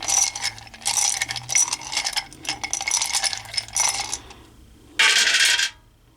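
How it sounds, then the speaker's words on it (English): Hebrew rune stones clatter as they are shuffled together in the hands, a dense run of clicking and rattling, then a short bright burst of clacks as they are scattered onto a surface. "we're going to shuffle up the Hebrunes and pull out a handful and do kind of a scatter spread"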